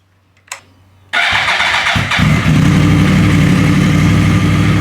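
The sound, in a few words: Yamaha R1 motorcycle engine starting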